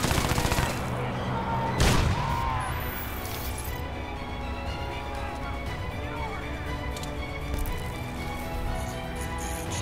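Gunfire from the Crysis 2 video game, with a sharp loud burst near two seconds followed by continuous rattling shots and explosions under game noise throughout.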